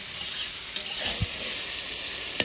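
Potatoes and eggplant frying together in a pan of oil for a Bengali fish curry, a constant close hissing sizzle with a few brief clinks and scrapes of a spatula, no talking.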